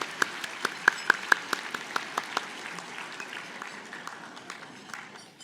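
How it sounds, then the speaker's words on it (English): Applause from a dinner audience at a book festival author dinner honoring past honorees, a few sharp individual claps rising into a steady clatter of many hands that slowly thins out. "A round of applause for our previous honorees."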